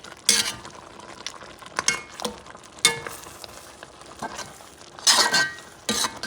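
A spiced Lebanese-style oxtail stew is stirred in a pot, with irregular scraping and clinking strokes of a utensil against the pot and a faint simmer between them.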